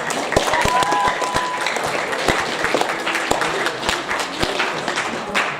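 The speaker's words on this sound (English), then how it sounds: "huge round of applause for that group" A school assembly hall full of people applauds, with steady, dense clapping continuing throughout.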